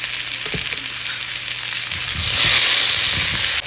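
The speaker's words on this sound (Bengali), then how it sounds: "আলুগুলো ভাজা করছি এর মধ্যে একটুখানি হলুদ দিয়ে দেবো" A pan of mixed white and red potato pieces seasoned with turmeric and salt fries with a loud, steady sizzle that swells and brightens toward the end, with no voices over it.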